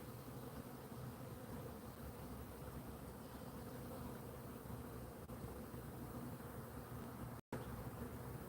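Dense, continuous buzzing of many bees around a hive during a pollen dearth, steady and loud throughout, with a momentary dropout near the end.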